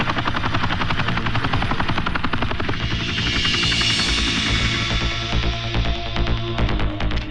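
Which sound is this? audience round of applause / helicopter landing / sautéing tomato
helicopter landing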